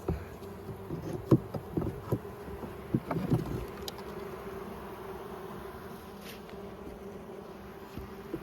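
Honeybees buzz around an opened hive during a spring inspection, a steady close drone with sharp clicks and knocks of frames being handled early on.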